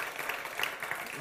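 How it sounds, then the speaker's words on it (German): Audience at a church talk applauds the tech crew, a brief, moderately loud wash of clapping with no talk over it. "geben wir doch schnell einen Applaus der Technik."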